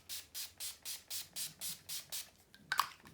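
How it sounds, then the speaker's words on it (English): Urban Decay All Nighter setting spray pumped in rapid bursts, about nine short close-up hissing spritzes in an even rhythm, followed by a faint bottle clack. "for setting spray, I'm going in with my Urban Decay All Nighter"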